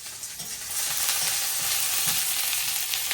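Chopped onion hisses and crackles as it hits a pan where belle fish is already frying, a steady loud sizzle with occasional stirring scrapes close by.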